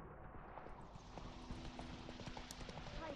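Horse hoofbeats in The Witcher 3 while riding, a steady clip-clop of hooves at moderate volume with faint background game ambience and no speech.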